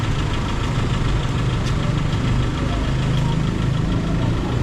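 Motorcycle engine idling nearby outdoors amid a crowd, a steady low chugging rumble that stays loud and constant, with faint voices mixed in.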